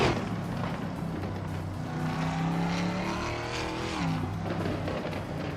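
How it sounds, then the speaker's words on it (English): Camaro and Mustang race cars roar side by side in a close race, a loud continuous engine drone with pitch sweeping up and dipping as they accelerate and brake, no voices. "the Camaro and Mustang are neck and neck"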